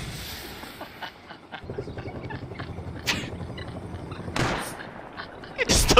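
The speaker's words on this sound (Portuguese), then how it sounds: "Eles estão atirando a gente." Gunfire in the video game Rust, with scattered shots cracking at varying distances over a steady ambient game bed. A louder crack comes near the end, and there is no talk.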